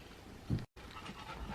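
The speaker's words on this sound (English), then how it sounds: "Excuse my dog, he's panting right now" A dog pants indoors close to the mic, a quick, steady run of breathy huffs with a short gap of silence partway through.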